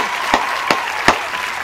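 An audience gives three short, sharp claps spaced evenly apart, each a brief burst standing out from a quiet background with no talking.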